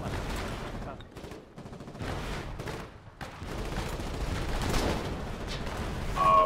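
Gunfire in a war video game with half-tracks: dense, continuous bursts of shots and rumbling blasts, loud and sustained, with faint voices mixed in.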